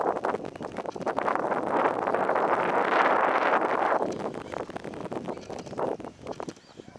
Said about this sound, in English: The wind will come up every now and then, and make it just a little blustery today.